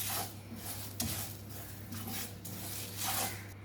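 Whole spices dry roasting in a pan for beef nalli nihari, with soft scraping stirs and light rattling scattered over a low steady background hum, fairly quiet throughout.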